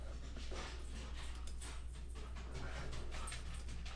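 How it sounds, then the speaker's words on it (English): Dogs whimper and yip under a constant noisy hiss, with scattered faint barks and whines running throughout at moderate distance. "All of a sudden the dogs went crazy."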